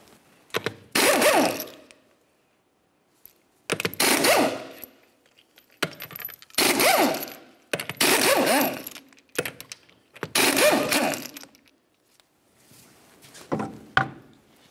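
A tool spins 21 mm lug nuts off a Pontiac Vibe rear wheel in five separate loud bursts of whirring and ratcheting, each lasting about a second, separated by quiet gaps and small clinks of metal.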